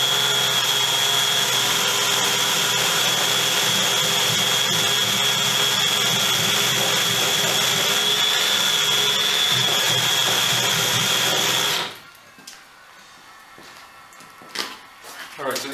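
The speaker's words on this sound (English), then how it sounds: "first thing I'm going to do is drill a couple of holes in the sides," An electric drill bores holes through the sides of a compressor cart so an axle can pass through, giving a loud, steady whirring whine that runs nonstop for about twelve seconds before cutting off, leaving quieter handling noises.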